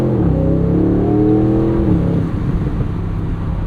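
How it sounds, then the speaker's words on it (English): A 4-liter M177 V8 in an Aston Martin Vantage S roadster revs loudly, pitch rising steadily over the first two seconds, then settling into a rough, steady rumble with no talking. "They've also managed to make the 4-liter M177 in this sound a bit more unique compared to its Mercedes counterparts"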